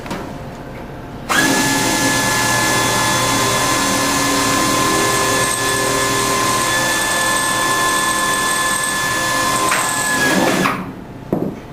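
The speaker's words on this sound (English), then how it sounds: "we're going to drill our second hole." A power drill starts abruptly and whines steadily for about ten seconds, loud and close, then winds down and stops.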